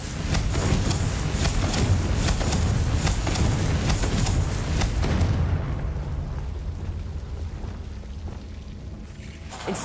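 A Confringo fire spell blasts in Hogwarts Legacy, a loud, rumbling burst of explosive crackling that roars for several seconds and then gradually trails off into a quieter rumble.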